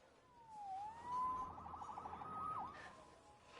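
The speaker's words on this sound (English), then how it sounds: "Saved by the siren." A police siren wails in the Spider-Man Remastered video game on PS5, with a clear rising and falling electronic tone that sweeps and warbles over a steady game backdrop.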